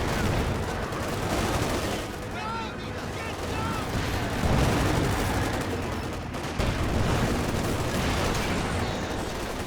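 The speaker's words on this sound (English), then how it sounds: "Assault grenades, a lot of assault grenades." A dense barrage of assault grenade blasts and gunfire from a Company of Heroes 2 battle rolls on without a break, loud and layered, with faint voices half buried in the din.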